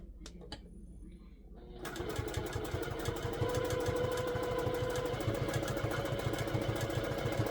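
A Juki TL 2000 Qi sewing machine working on a jelly roll rug starts up after a few soft handling clicks, then runs as a steady, fast, close mechanical rattle with a rapid needle rhythm.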